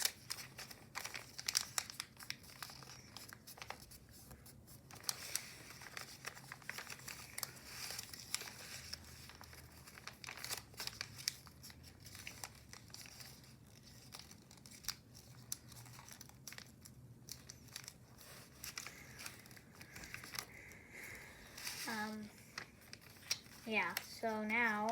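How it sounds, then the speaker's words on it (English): Paper being folded into an origami aircraft carrier with squash and petal folds gives soft, close crinkling and rustling throughout, with someone talking over the handling. "squash and then petal fold this flap again"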